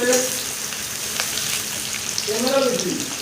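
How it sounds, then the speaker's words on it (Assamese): Onions fry in hot oil for a home-style duck curry, stirred with a spatula, giving a steady close sizzle with scraping strokes and a brief voice in the background. "পিঁয়াজখিনি বহাই দিছে, হেতাৰে লাৰি আছে।"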